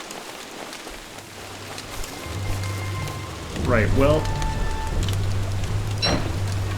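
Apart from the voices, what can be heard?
rain in the video game Don't Starve: Hamlet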